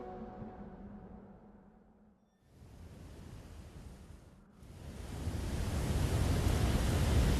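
Rushing sand waterfall in the video game Journey, a steady broadband hiss like surf or wind that dips briefly, then swells louder and fuller for the remainder, with no voices.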